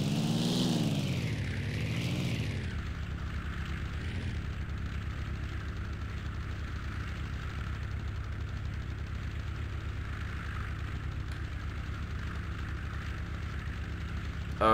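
A propeller airplane in the video game ARMA 2 sweeps close by, its engine pitch rising and falling as it passes, then settling into a steady droning hum that continues alone.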